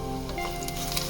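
Sliced onions fry in a pan with ginger garlic paste, a close, steady crackling sizzle that runs on evenly with no talking.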